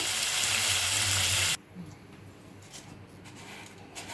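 Loud sizzling of tomatoes sautéing in oil fills the first part, then drops off abruptly, leaving a quieter crackle of food cooking in a pan with faint background noise.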